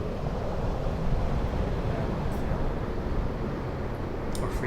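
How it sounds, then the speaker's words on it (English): Recorded waves on a beach played from an ambient sound app, an even, continuous wash of surf noise with no distinct breaks, fairly soft and unchanging throughout. "this is the sounds of waves on a beach"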